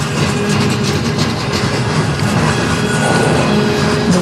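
A CN M301 manifest freight train led by locomotives CN 2256 and 2685 rolls past on the Strathroy Sub, a loud, close, steady rumble of wheels and cars with continuous rattling and clatter and no pause.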